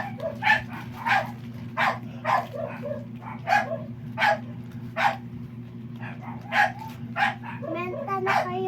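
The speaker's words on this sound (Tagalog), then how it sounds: "Ang dami naman tahol." Several dogs bark repeatedly in short bursts at moderate distance, with a steady low hum running underneath and someone talking over them during an indoor live selling session.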